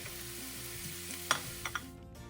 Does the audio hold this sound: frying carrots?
yes